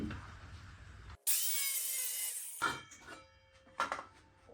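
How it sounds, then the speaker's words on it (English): A Sawzall reciprocating saw with a bent blade cuts into wood to build a whelping box. One short, loud, harsh burst of buzzing cutting sits between quieter handling noises. "we're just making a little hole just to get the Sawzall blade in there"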